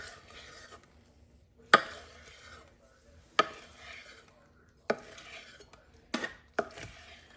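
A knife slicing through tender smoked spare ribs on a board, with several sharp separate chops or knocks spaced a second or so apart and soft scraping between them.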